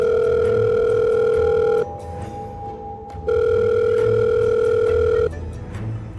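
A telephone ringing in a horror story, steady electronic ring tones in two long bursts separated by a short pause, loud and close with no voices.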